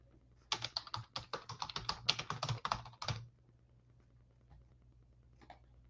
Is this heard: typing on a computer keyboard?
yes